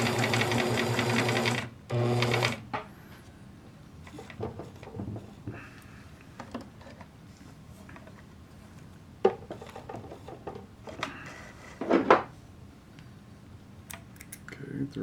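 A Bernina Record 830 sewing machine stitches a wide stitch in two loud bursts of steady mechanical whirring at the start, followed by quieter clicks and handling noises with some speech.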